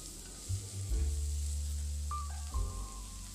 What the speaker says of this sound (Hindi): अब हम प्याज, हरी मिर्च और कड़ी पत्ता डालेंगे एक एक करके